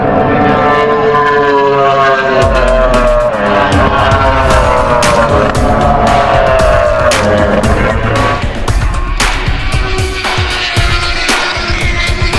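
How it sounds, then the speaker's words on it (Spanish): Benelli 502C 2019 twin-cylinder motorcycle engine running steadily and loud, with rising and falling harmonic engine tones throughout and a few deeper revving swells. "Estamos hablando de un motor bicilíndrico que además es súper elástico"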